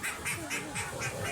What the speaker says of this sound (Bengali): এই যে এখানে হাঁস আছে